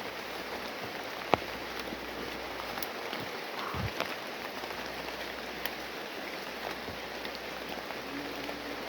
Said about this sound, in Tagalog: Medyo lumakas yung ulan dito.